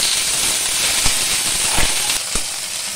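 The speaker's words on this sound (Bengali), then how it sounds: "তেল গরম হয়ে গেছে। এবারে ভেন্ডিগুলো একটু ভেজে নেব।" Okra frying in hot oil over a lowered gas flame, a steady broadband sizzle and hiss that holds evenly throughout, with a few brief louder pops or crackles breaking through near the middle and end.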